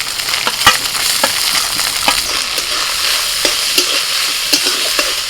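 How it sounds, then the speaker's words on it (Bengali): Boiled bhetki fish, with its bones and skin removed, is stirred in a pan with ginger and garlic over a steady sizzle. Scattered spatula scrapes and knocks come through in an irregular rhythm, close and fairly loud, with no talking. "জল জলা ভাব আছে যেহেতু মাছটা সিদ্ধ করা হয়েছিল তাই সেই জলটা শুকিয়ে নেওয়ার জন্য জাস্ট দু তিন মিনিট একটু এইভাবে নাড়াচাড়া করে নিতে হবে"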